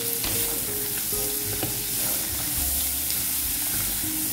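Onion frying in hot oil with browned garlic for a feijoada, heard as a loud continuous sizzle and crackle with some stirring, no talking.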